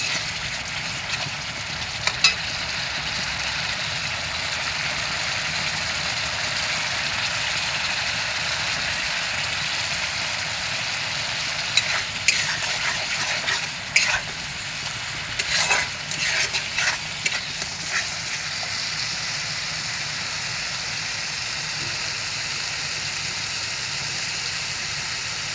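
Red chili powder sautéing with onion paste for a Bengali fish curry, a steady soft sizzle with occasional scraping stir clicks, moderately close and without talk.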